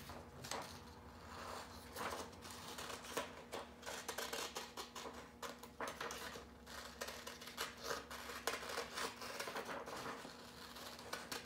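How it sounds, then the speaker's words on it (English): Scissors snip through paper to cut out a leaf shape for a paper rose craft, giving a quiet, irregular run of close-up crisp cuts and rustles with small pauses between them. "And then I'm gonna cut out my leaf."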